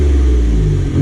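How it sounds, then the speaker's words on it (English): A 2019 Ford F-150 Raptor engine revs through a Magnaflow MF Series catback exhaust, giving a loud, steady, deep rumble up close that holds for about a second. "He put the Magnaflow MF Series on it. It's the catback exhaust, so from here back, completely new exhaust."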